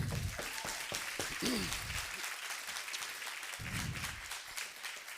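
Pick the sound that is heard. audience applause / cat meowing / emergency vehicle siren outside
audience applause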